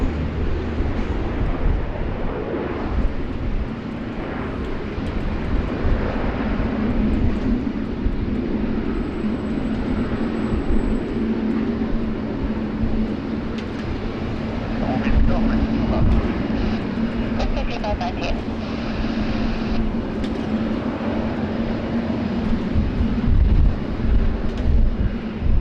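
A Garuda Indonesia airliner's jet engines rumble in a continuous, distant roar at Sydney Airport, steady and broadband with a low hum, with a faint whine.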